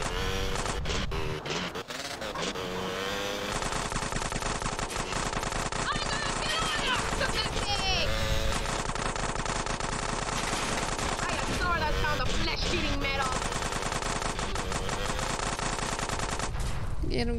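Automatic gunfire in GTA San Andreas Definitive Edition, bursts rattling steadily through a dense, continuous game soundtrack with engine and crash noise.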